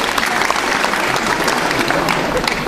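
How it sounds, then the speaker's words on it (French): Applause at a youth sports awards ceremony where cadet competitors in weight categories are honoured: a steady, dense crowd clapping that fills the whole moment at close range, with no pause. "le troisième Dari, on va quand même l'applaudir pour ce qu'il y a."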